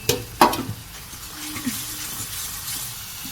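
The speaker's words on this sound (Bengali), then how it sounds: "এবার এর মধ্যে দিয়ে দিলাম আদা বাটা আদা আর কাঁচা লঙ্কা" Ginger paste and green chillies drop into a frying tomato-onion masala, giving a couple of sharp spoon knocks early on, then a soft steady sizzle and stirring scrape at close range.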